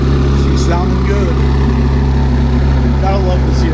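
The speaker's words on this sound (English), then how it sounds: "You can hear it kind of idling behind me there" Chevrolet Corvette C8 Z06 V8 idling, a steady, deep rumbling hum with even low pulsing, close by, with faint chirps over it.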